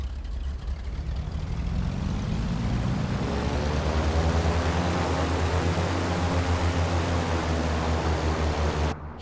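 Steady drone of a Cessna 414AW Chancellor's engines idling in a flight simulator game, a constant low rumble with layered harmonic tones that slowly rise, heard alone and fairly loud.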